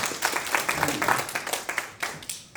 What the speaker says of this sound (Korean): 자신을 위해서 큰 박수 보내드리겠습니다